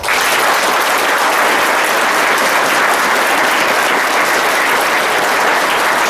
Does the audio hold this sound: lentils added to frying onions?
no